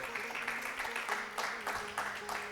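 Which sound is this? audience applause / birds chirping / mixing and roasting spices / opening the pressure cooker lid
audience applause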